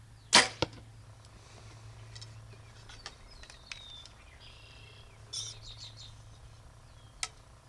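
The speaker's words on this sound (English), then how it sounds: "I'm just going to shoot a few shots here at 20" An Elite Rezult target bow fires arrows at 20 yards outdoors: a few sharp, short release snaps, the loudest early and others fainter, amid quiet birdsong and insect chirps.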